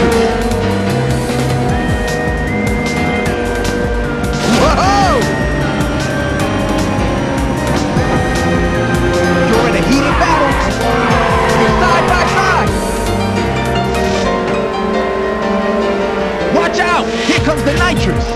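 Race cars roar through a video game's Diablo Canyon course as a nitrous boost fires, a constant loud engine drone with tire squeals and whooshing surges, while a voice talks over it.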